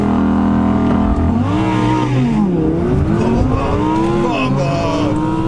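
A 750bhp Nissan GTR accelerates hard in a drag race, its loud engine note rising and dropping through gear changes, with voices faintly underneath.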